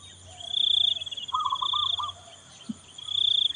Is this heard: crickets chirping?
yes